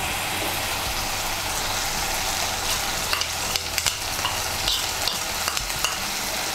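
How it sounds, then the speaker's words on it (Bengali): Yogurt and ground spice paste hitting hot oil for a dhaba style egg masala curry, giving a steady loud sizzle with spoon stirring and a few scraping clicks toward the end, no voices. "এখন আমি এর মধ্যে দিয়ে দেব টক দই দিয়ে আর গুঁড়ো মশলা দিয়ে আমি যে পেস্টটা বানিয়ে নিয়েছিলাম সেই পেস্টটা।"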